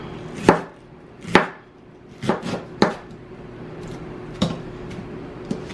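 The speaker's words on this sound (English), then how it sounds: "I cut cabbage up small" A knife chops cabbage small on a cutting board: six sharp, close knocks in an irregular rhythm, a few spaced out and a quick pair in the middle, with no talking.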